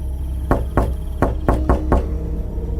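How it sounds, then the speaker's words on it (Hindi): Heavy fists pound on a door, five or six loud, spaced thuds close by in a tense rhythm, a horror-story sound effect with no voices. "तभी बाहर जोर से दरवाजा पीटा गया।"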